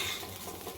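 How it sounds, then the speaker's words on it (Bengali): Gobindobhog rice frying for pulao while being stirred in a pan, a soft continuous scraping and light sizzle, close but quiet, with no talking. "চালটা মোটামুটি ভাজা হয়ে গেছে,"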